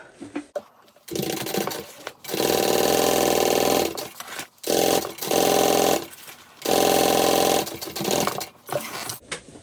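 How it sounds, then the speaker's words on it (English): A sewing machine stitches a handbag's lining in several fast, loud runs, each several seconds long, with short quiet pauses and a few small handling sounds between them. "I'm going to stitch this."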